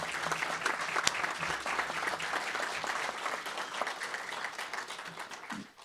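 Steady, dense applause from a town hall audience at a Tahoe evacuation meeting, filling the room with sustained clapping before trailing off at the very end.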